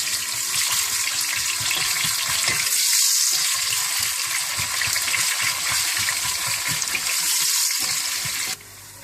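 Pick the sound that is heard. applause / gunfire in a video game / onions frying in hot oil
onions frying in hot oil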